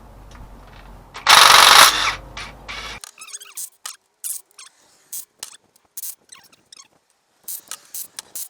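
A power tool spins 8mm bolts out of a 5R110W transmission pan, first one loud sustained whirring burst, then a string of short, sharp buzzing and ratcheting bursts close by, with pauses between them.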